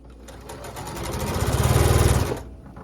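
A sewing machine stitching quilt block pieces in a single close run of a couple of seconds, with a rapid, even needle chatter that builds and then stops abruptly.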